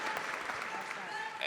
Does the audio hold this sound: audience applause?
yes